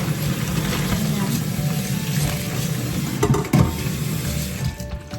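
Tap water runs steadily into a container for washing vegetables, a continuous close splashing wash with faint clatter near the end.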